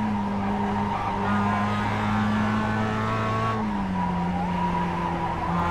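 Mazda race cars in the iRacing sim, engine drone steady and loud throughout with a pitch that slides down near the end, tyre scrub layered over the constant roar.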